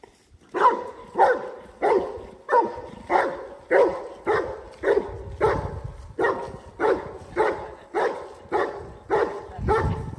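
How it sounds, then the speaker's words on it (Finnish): A dog barks in a steady, insistent rhythm, about two barks per second and loud, with close-up thumps underneath, during a dog temperament assessment. "Vaikka nuo hyvin haukkuu."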